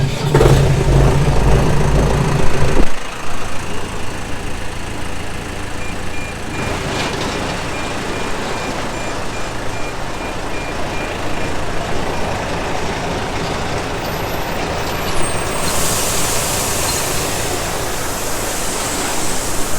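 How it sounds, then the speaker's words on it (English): Grain auger driven by a truck runs with a steady, loud mechanical roar and rushing grain noise, preceded by a heavier engine rumble that drops away after a few seconds; a faint high whine rises near the end. "So get the auger fired up."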